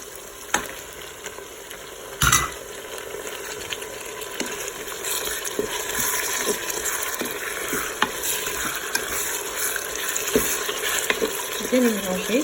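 Tomatoes and chicken being stirred in a Cookeo electric pot for chicken with olives and carrots, a steady sizzle with repeated scraping strokes of a utensil against the pot, close and continuous, with no talk.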